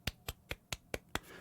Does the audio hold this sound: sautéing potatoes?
no